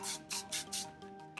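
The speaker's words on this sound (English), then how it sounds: "So what I'm going to do is thoroughly spray down each surface" Bursts of Dettol antibacterial surface cleaner sprayed from a trigger bottle onto surfaces, four or five close, hissing pumps in an uneven rhythm, heard alone with no talking.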